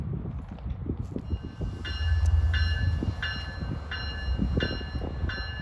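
An Oyster Bay Branch train sits trackside with a steady low rumble and clatter, while a bright crossing bell rings in evenly spaced repeats over it, close and fairly loud.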